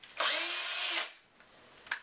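A cordless power drill whirs loudly for about a second, spinning up and winding down, followed by a couple of faint clicks.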